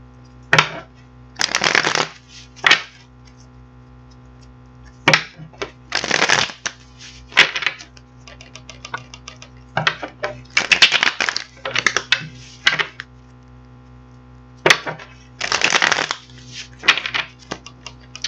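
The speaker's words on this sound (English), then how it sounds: "we're going to get these cards shuffled up" A deck of tarot cards is shuffled repeatedly at close range, crisp riffling bursts and soft slaps separated by short pauses, with no speech over a faint steady hum.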